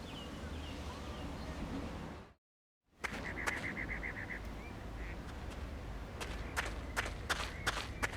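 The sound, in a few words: ducks quacking in the video game Secret Files 2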